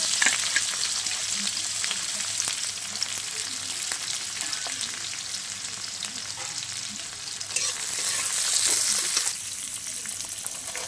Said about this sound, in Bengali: প্রথমে আমি কড়াইতে তেলের মধ্যে পেঁয়াজ আর লঙ্কা কুচিটা দিয়ে দেবো